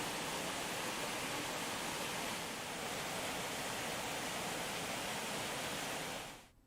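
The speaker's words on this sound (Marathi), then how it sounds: "मुसळधार पावसामुळे मुंबईकरांना पाणी पुरवठा करणाऱ्या 7 तलावांपैकी तुळशी तलाव ओसंडून वाहू लागलेला आहे।" Tulshi lake in Mumbai overflowing after torrential rain, a dense, steady roar of rushing water that holds constant and then cuts off at the end.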